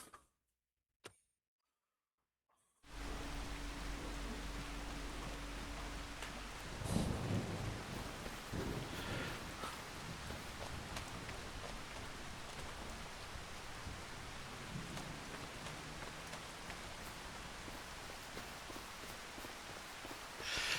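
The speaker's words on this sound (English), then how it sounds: "Still sounds like it's raining even though it's showing as not raining." In Farming Simulator 25, after a couple of seconds of near silence, steady rain patters and hisses continuously, with a low rumble and faint scattered knocks underneath.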